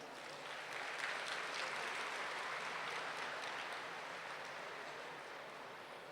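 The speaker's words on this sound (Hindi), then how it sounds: "आप इस कार्यक्रम के लिए ताली बजाएंगे।" An audience at a spiritual gathering applauds, and the dense, even clapping swells within the first second, holds steady, then slowly tapers off, fairly soft and distant.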